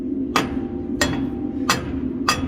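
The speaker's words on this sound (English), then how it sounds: "Take your hammer, hit it the other way now. Give it a whack." A hammer whacks a metal part on an 835 tractor four times, each sharp ringing blow evenly spaced about two-thirds of a second apart, over a steady low hum.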